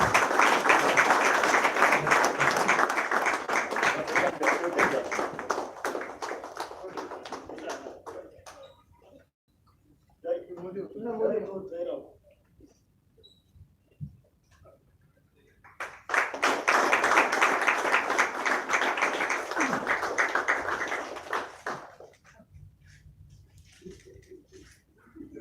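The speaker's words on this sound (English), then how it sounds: "Let's give them a round of applause, please." A room of people applauds a coach and captain at a football club jersey launch, loud sustained clapping that fades, a brief murmur of voices, then a second strong round of applause.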